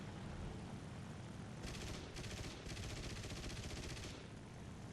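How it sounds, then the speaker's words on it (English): Bursts of aircraft cannon and machine-gun fire from a Nakajima Ki-43-II fighter in War Thunder, heard as several rapid rattling bursts over a steady, loud engine drone. "Just popping some more shots into him"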